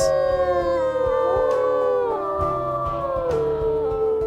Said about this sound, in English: I think we've got some new deep howls in the mix.